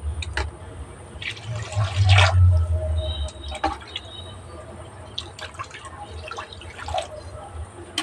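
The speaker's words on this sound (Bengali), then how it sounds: "পরিমাণ মতো পানি দিয়ে দিলাম" Water is poured into a cooking pot during home cooking of a hand-stirred curry, giving a steady splashing fill. A louder surge comes early and softer drips and clinks follow, with no one talking.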